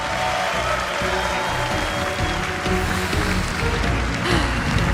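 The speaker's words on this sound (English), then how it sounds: "A massive round of applause for Annie Sardellis, Gavin Verhey" Sustained applause from a crowd, a dense wash of clapping that holds steady throughout with no clear pauses.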